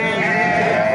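A single sheep at a livestock market gives a sustained, close, loud bleat lasting about a second.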